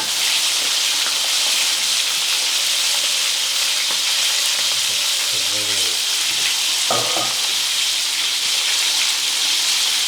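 Beef pieces, marinated and clumping together, fry in hot oil over medium heat, giving a steady, loud broadband sizzle that runs the whole time with a few faint clinks and soft bumps partway through.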